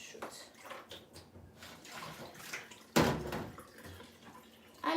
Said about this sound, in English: I'm draining the mozuku.